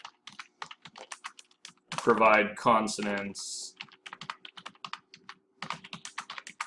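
Rapid clicking on a computer keyboard, close and fairly quiet, runs in steady bursts, and a spoken voice breaks in briefly partway through.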